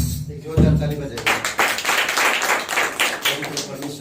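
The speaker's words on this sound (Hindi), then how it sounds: "एक जोरदार ताली बजाइए।" A congregation at a Wednesday church service bursts into loud, sustained clapping after a voice, the dense applause continuing on its own.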